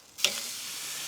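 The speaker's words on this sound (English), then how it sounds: "You hear the sizzle?" Jerk chicken sizzles on a very hot grill, a sudden loud hiss as meat hits the grate settling into a steady, close frying crackle.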